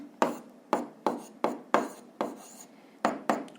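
Handwriting on paper while an answer to a physics problem is written out, a series of seven close scratchy strokes in an uneven rhythm with short pauses between them, no voices.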